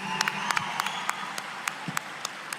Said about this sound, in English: please give a huge round of applause to the man behind the wonderful lyrics